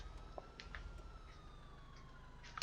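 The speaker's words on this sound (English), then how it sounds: "What the hell's with that ambulance, by the way?" Ambulance siren in the video game GTA IV, a faint wailing tone with falling pitch sweeps far off over a steady low rumble of background noise, with no talk.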